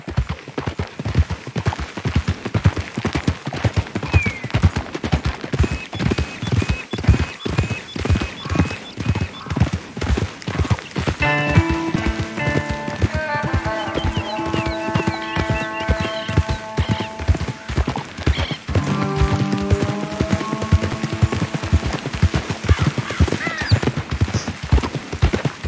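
In Red Dead Redemption 2, a horse gallops in a steady, rapid rhythm of hoofbeats that runs close and constant throughout, with soft game music rising in the middle.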